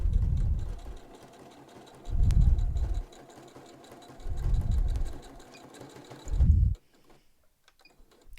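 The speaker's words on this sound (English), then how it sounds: "I'm using that reverse stitch just for a little extra durability" A sewing machine reverse stitches a fabric mask: four loud motor bursts of about a second each, separated by quieter pauses with faint ticking, the last burst cutting off into near silence.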